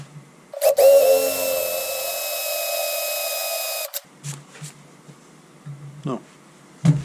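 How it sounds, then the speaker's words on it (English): A power drill spins up with a sharp high whine while boring into metal inside an International 4x4 crew cab with a 5.9 Cummins, running steadily for about three seconds, followed by clicks, clunks and brief talk. "It's pretty hard to drill that."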